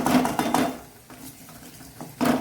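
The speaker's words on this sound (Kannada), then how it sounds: "ಬಟಾಟೆಗೆ ಎಷ್ಟು ಬೇಕು ಅಷ್ಟು ಉಪ್ಪನ್ನು ಹಾಕ್ಕೊಂಡು ಒಮ್ಮೆ ತಿರುಗಿಸ್ಕೊಳ್ಳೋಣ" A spoon stirs potatoes and salt in a metal pan at close range, with rhythmic scraping and clinking strokes in two bursts separated by a quieter pause.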